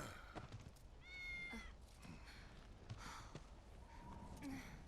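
A cat meows in Final Fantasy VII Remake, a few short tonal calls over game background sound and effects, moderately clear but not loud.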